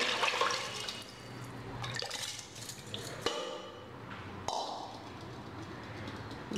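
Rice and its soaking water poured into an oiled pressure cooker while making Tamil-style savoury ven pongal, a splashing, pouring wash with a few metallic clinks and pings from the cooker, close and steady throughout.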